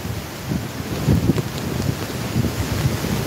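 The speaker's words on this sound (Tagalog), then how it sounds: "Malakas guys ang hangin." Strong storm wind buffets the microphone at Nato Port on the coast of Sagñay, Camarines Sur, during a storm surge, with gusty low rumbling and faint surf noise in the background.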